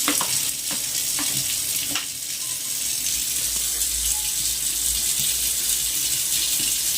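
A washbasin is scrubbed hard with household cleaning materials, giving a steady wet hiss of scrubbing and water with a few scattered knocks.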